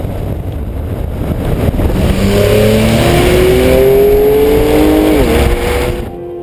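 A 2011 Porsche 911 GTS launching hard from a standstill with launch control: a loud, close engine roar climbing steadily in pitch for several seconds, then a brief dip as it shifts, with no voices over it.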